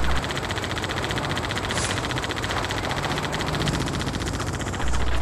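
Rapid machine-gun fire in the video game Fields of Glory, a dense continuous rattle that holds loud and steady for nearly the whole stretch.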